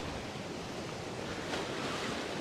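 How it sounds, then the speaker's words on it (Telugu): Sea waves surge along the Andhra Pradesh coast during Cyclone Montha, a faint, steady wash of surf that blends with wind noise throughout, with no voices. "తుఫాన్ వచ్చినప్పుడు లేదా సైక్లోన్ వచ్చినప్పుడు సముద్ర కేటాలు కుదిరితే చాలా ఉన్న స్థాయి కంటే బాగా ఎత్తుగా ఎగురుతూ ఉంటాయండి"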